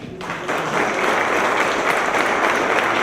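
Audience applause at a conversatorio marking 50 years since 1968, a broad, steady clapping that swells after a quieter start and holds loud and dense to the end.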